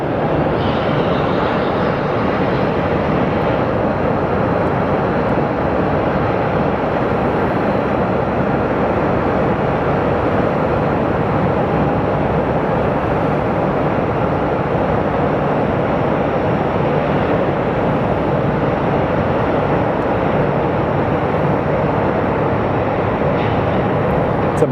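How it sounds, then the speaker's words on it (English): A Boeing business jet at Sky Harbor Airport produces a loud, steady jet roar that holds at the same level from start to finish, with no talking. "It's a Boeing business jet."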